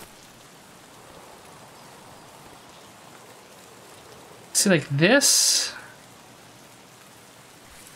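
Steady, loud rainfall in the Escape from Tarkov game, a dense even hiss that continues throughout, with someone speaking briefly in the middle.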